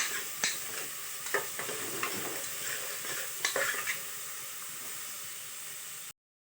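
Beans and green chillies being stirred in a hot oiled pan, a steady sizzle with scraping spoon strokes and occasional sharp clinks against the pan, alone without talk.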